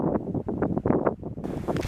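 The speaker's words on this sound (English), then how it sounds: "the wind's gusting like crazy." Gusty wind buffets the microphone beside a tannin-stained trout stream, a loud, rough rumble surging and dropping in uneven bursts with no voices.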